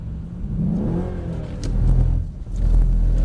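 A Mercedes-Benz C63 AMG V8 gives a throttle blip on a driving-experience track: the engine revs up sharply, then settles back into a loud, rumbling idle close by, with no voices over it.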